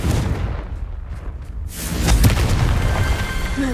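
A booming fiery explosion from the Confringo spell in the video game Hogwarts Legacy, a loud rumbling blast that swells midway and stays dense and heavy, with no talk over it.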